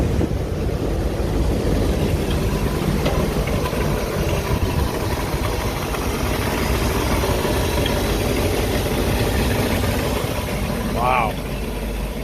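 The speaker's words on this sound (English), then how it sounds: "you got to listen to this motor." A 1959 Cadillac engine idles close by with a steady, even mid-pitched rumble under faint background noise, and a brief chirp is heard near the end.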